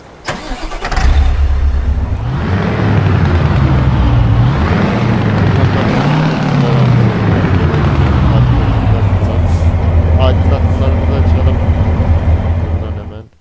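A DAF XG+ truck's diesel engine cranks and starts in Euro Truck Simulator 2, then settles into a loud, steady idle rumble with slight pitch swells, close and continuous until it cuts off.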